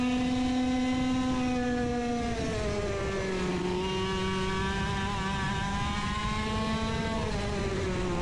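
Racing engine on a track during a close battle for position, its steady harmonic whine dipping in pitch as the rider eases off the throttle, then holding lower and even, loud and continuous with no talk.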